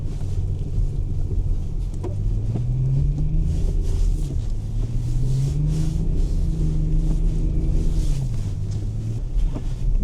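A Range Rover L322 with the TD6 diesel engine pushes through deep snowdrifts, its engine droning and rising and falling in pitch as it strains, under steady wind and rumbling body noise.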